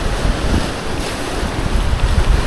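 Ocean surf rolls and washes continuously, a broad roaring wash of waves with wind buffeting the microphone throughout.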